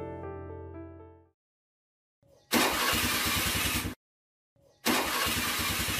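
Motorcycle engine with sand poured into it failing to start: a fading tone first, then two separate loud bursts of cranking engine noise, each cutting off abruptly after a second or so with silence between.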